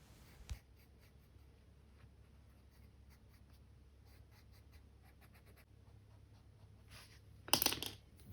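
A blue felt-tip marker drawing on paper makes faint, intermittent squeaky scratches in short strokes, with a brief louder rustle of paper near the end.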